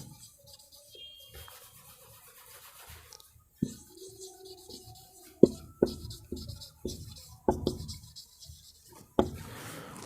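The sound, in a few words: writing on a board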